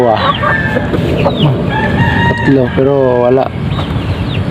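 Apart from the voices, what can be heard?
chicken clucking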